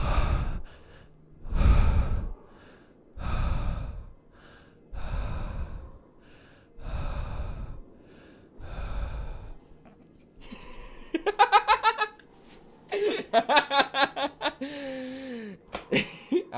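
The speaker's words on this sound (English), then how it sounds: "Dude's heavy breathing on this mic." Heavy, loud breaths close against a microphone during a gaming stream, a run of about six deep, rhythmic exhales, then faster snorting, gasping bursts toward the end.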